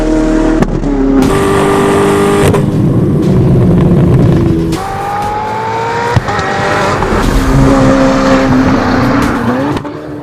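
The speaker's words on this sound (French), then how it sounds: "le V8 de la supercar danoise peut s'exprimer librement et chanter" A Zenvo TSR, the track-only Danish supercar with a 1104 hp V8, revs hard on a circuit, its loud engine note climbing and falling through repeated gear changes with brief lifts between pulls.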